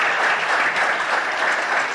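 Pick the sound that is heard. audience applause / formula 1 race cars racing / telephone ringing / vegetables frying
audience applause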